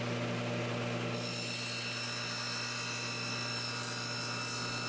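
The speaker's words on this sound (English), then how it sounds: "we installed a dado blade to cut wide slots in the sides to accept the shelves" A table saw fitted with a dado blade cuts wide slots in wood sides for bookcase shelves, giving a loud, steady high whine that starts about a second in and runs on without a break.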